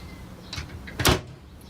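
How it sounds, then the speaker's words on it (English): A foldable sliding door on a Sealine C390 motor boat slides open into the saloon, with a soft rattle and then one loud, close swoosh as the panels run along their track. "It's a foldable door that opens directly into the saloon, and it just slides open"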